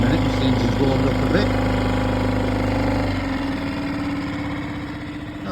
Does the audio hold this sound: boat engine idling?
yes